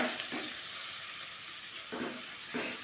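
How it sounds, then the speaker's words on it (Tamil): Chopped medium onion frying in oil in a pan hisses with a steady, quiet sizzle, broken by a few brief stirring clatters, close by with no talking. "இப்போ இந்த வெங்காயம் நல்லா வதங்கட்டும்."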